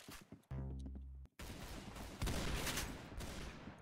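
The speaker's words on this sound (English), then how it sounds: "Shotguns are so weird in this game." Shotgun blasts in a Roblox video game, with a short steady tone followed by a dense, loud stretch of booming shots that swell and continue for over two seconds. No voices.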